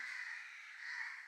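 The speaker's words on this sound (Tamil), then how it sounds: "வெளியே ஏன் இவ்வளோ காக்கா கத்திக்கிட்டு இருக்கு தெரியல இத்தனை மணிக்கு" Crows caw outside, heard as a continuous harsh, nasal cawing chorus, faint and distant, holding steady without pauses and with no talk over it.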